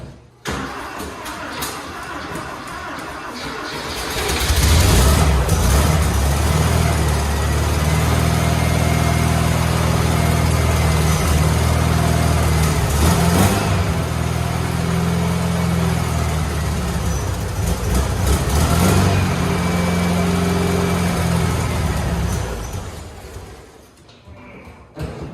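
A cheap $300 Porsche motor, running on bad gas, cranks and fires after about four seconds of near silence, then idles loudly and roughly close by for some twenty seconds before cutting off.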